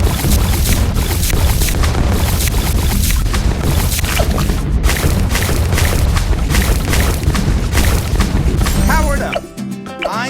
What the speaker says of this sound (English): Turbo damage laser bombs.